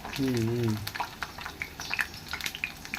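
Amaranth leaf pakoras frying in very hot oil, a bubbling sizzle with scattered pops and crackles close by, opened by a short voice.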